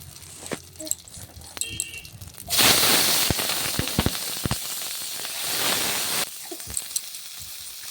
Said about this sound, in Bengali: ফোড়নের জন্য আমি এখানে জিরে আর শুকনো লঙ্কা দিয়ে দেব তারপরে কেটে রাখা পেঁয়াজ আর লঙ্কা দেব